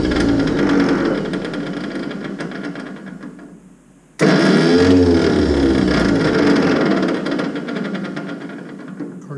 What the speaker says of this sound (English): Of course, now the starter is not wanting to kick in.